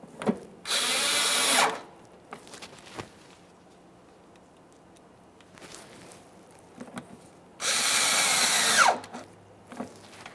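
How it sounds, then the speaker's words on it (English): Power screwdriver driving Phillips head screws into a 2009-2014 Nissan Maxima fender liner, two loud whirring bursts about a second long each, separated by quiet clicks and handling noises. "we're going to install our 2 Phillips head mounting screws here"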